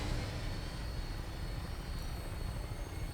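Steady aircraft engine roar of a vertibird taking off in the video game Fallout 4, a continuous dense low rumble with even loudness and no speech.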